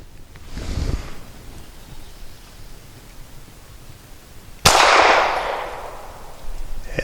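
A single sharp, loud shot from a SAR USA B6C pistol firing heavy 147 grain Remington Golden Saber hollow points, with a decaying outdoor echo after the crack over wind noise.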